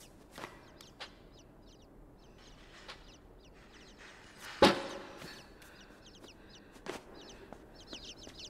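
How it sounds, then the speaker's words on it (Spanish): Small birds chirp in the video game Inside: scattered, faint twittering calls across the scene, broken by one louder, sharper burst near the middle and another later, with no voices. "Ah, no, esos son pájaros. Parecían los pollitos de antes."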